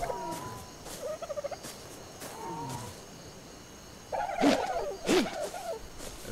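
Dodo birds calling in the video game Ark Survival Evolved, a series of gobbling, turkey-like clucks and warbles, softer early on, then two louder close calls.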